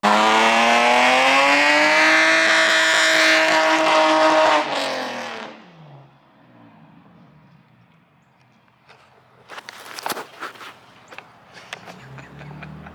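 A car doing clutch kicks in a stadium on a stock clutch and pressure plate: a loud engine rev with tire squeal for about five seconds, then the sound drops away, followed by scattered crackles and scuffs.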